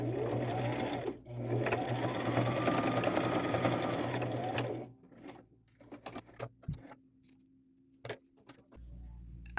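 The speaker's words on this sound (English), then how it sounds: "Maybe even go forward a couple stitches and back" A sewing machine runs steadily for about five seconds, stitching elastic onto a bandana headband, then stops and is followed by scattered light clicks and handling noises of the fabric and pin.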